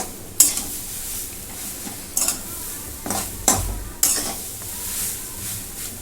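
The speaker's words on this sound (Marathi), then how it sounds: "आता ह्याला बिन झाकण ठेवताच असंच परतत राहायचं" Besan pithla made from ground chana dal is stirred in an uncovered pan, with a low sizzle underneath and several distinct spatula scrapes and clinks against the metal, heard close and without talk.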